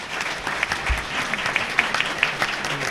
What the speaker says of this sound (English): So let's give everyone a big round of applause.